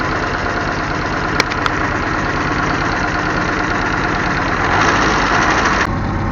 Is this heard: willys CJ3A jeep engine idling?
yes